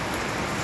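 Heavy rain in a residential laundry area, a steady dense hiss of water filling the whole clip at close range, with no talk.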